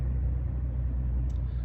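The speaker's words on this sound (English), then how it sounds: "Loud truck zipping by." A loud truck rumbles past outdoors, a steady deep engine roar that holds for the whole moment, fairly close and without speech over it.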